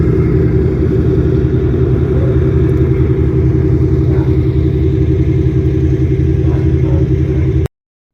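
At a dock, boat engines idle close by with a loud, steady, low rumble that keeps an even throb and stays unchanged until it cuts off sharply near the end.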